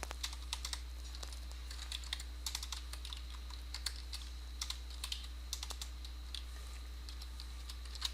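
Typing on a computer keyboard, a steady patter of light key clicks running throughout at a quiet, close level with no talking.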